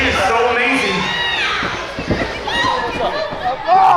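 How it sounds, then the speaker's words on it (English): A wrestling crowd at the Universal Fury 6 event in Bradenton County cheers and shouts in a lively, continuous roar, with excited voices rising and falling throughout and talking heard over the noise. "This Bradenton County crowd is so excited for the action"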